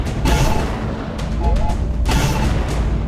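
Repeated heavy booms and gunfire from a drone strike video game, with artillery-like blasts rolling over a constant low rumble, while a voice talks over the action.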